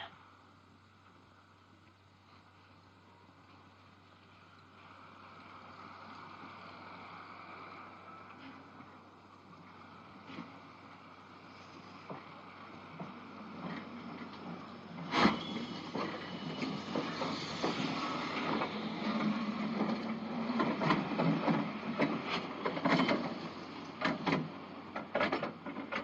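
A blacked-out train rumbles past in the dark, starting as a low distant drone and building into a loud, close clatter of rattling wheels and jolts.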